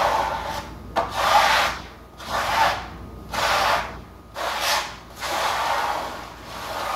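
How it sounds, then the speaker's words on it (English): Gesso being spread across a canvas surface with a tool makes repeated broad scraping, rubbing strokes, about six distinct passes with short pauses between them, close and moderately loud with no talking. "All I'm doing here is just trying to get the gesso spread over the entire canvas."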